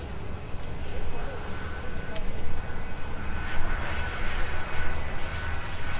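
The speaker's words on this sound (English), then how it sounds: "Shamrock departing on the north parallel runway 30 right, headed back to Dublin with a 321 XLR" An Aer Lingus Shamrock Airbus A321XLR takes off from runway 30 right at Minneapolis–Saint Paul airport, its engines a broad, steady roar at moderate distance that swells slightly throughout, with no talk over it.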